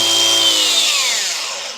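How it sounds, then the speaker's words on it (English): A beveled pipe cutter for drainage pipe runs loud and alone, a steady high whine that winds down and fades out at the end. "So this is a beveled pipe cutter"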